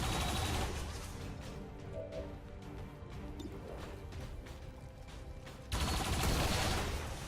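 A turret in XCOM 2 opening fire, a dense burst of rapid gunshots and impacts, loud and close, easing into a rumbling tail before another heavy blast near the end.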